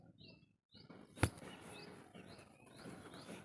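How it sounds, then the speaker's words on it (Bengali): Pigeons in a home bird house give soft chirps and calls, with one sharp close knock or wing clap in the middle and a quiet room hum underneath. "আর এই হচ্ছে পায়রা।"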